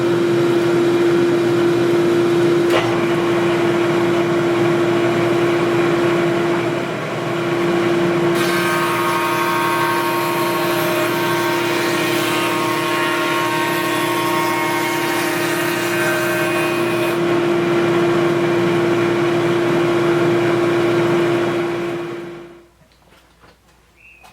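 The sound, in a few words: router and vacuum running, wood stick fed through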